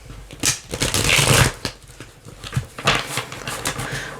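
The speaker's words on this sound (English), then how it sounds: "gonna give that a quick shuffle." A tarot card deck is given a quick shuffle, with two bursts of rapid riffling and flicking cards, close and crisp, separated by brief softer handling sounds.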